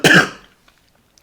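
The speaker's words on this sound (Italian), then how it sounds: "Perdonate la tosse, scusatemi." One person gives a single sharp cough with some throat clearing. It is a brief, close burst followed by near silence and a faint small noise at the end.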